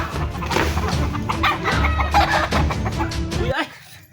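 Chickens cluck and squawk in rapid, agitated bursts close by, a busy flurry of calls that cuts off near the end.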